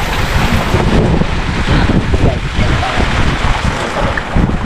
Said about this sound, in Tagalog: Unos na naman.